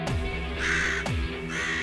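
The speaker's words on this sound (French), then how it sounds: "ramage du corbeau" A crow caws twice, harsh rasping calls close by with a gap between them, over a low steady background hum and no speech.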